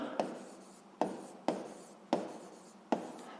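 Notes written out by hand during a physics lesson on sliding friction and traction force: five separate scratchy strokes, each starting sharply and fading, spaced about half a second apart, close and fairly quiet with no talking.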